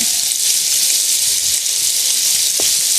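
Food browning in a pan outdoors for a keto jambalaya, a loud, steady hiss of sizzling fat that fills the whole moment with a faint pop near the end.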